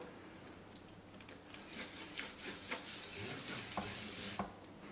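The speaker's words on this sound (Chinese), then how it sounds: "油热后放入生坯" Sesame-topped layered flatbread dough frying in hot oil on a preheated griddle pan, a soft steady sizzle that swells with brief crackles and spits, quiet and close, with no talk.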